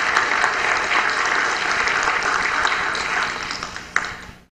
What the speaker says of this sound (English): he certainly deserves a round of applause